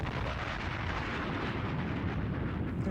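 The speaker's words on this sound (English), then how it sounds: "There was an explosion, a terrible explosion that blew up the music store." Explosion sound effect for a powder keg blast that destroys a music store: a steady, distant-sounding low rumbling roar with no distinct onset, fairly faint and continuous, with no voices.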